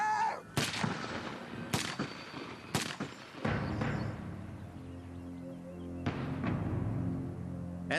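A hail of gunfire in a crime re-enactment: several loud, sharp shots spaced about a second apart, each echoing, then a pause and one more blast fading into rumbling reverberation.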